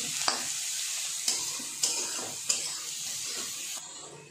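Flattened rice (poha) sizzles steadily in a pan while a utensil scrapes and taps through it in a few distinct strokes, up close with no talking.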